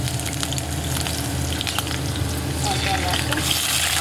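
Chillies sizzling in hot oil in a pan while cooking a banana flower and potato vegetable dish, with a loud, steady crackling fry and scattered sharp pops throughout.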